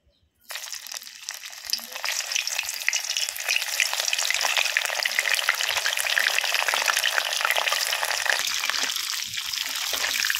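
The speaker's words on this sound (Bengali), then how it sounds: "এক এক করে আমি ফুলকপিগুলো ভেজে নেব তেলে" Cauliflower florets fry in hot oil with a steady, close sizzle that starts abruptly after a brief silence and holds dense and even throughout, with no voices.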